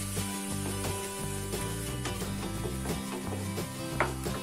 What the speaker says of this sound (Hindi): अब इसमें हम डालेंगे अदरक, लहसुन और मिर्च, तीनों चीज का मैंने पेस्ट एक साथ बनाया है, और इसे हम मिक्स कर लेंगे